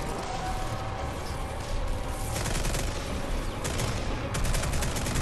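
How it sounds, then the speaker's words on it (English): Dense, continuous assault rifle fire in Fortnite, a loud rattling barrage with no pauses and with other battle noise mixed in throughout. "That assault rifle's new to me."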